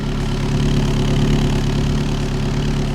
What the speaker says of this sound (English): just listen to the exhaust tone